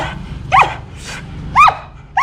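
A lively pet dog named Guapito barks at home, two sharp, close barks about a second apart over a low steady hum of background noise.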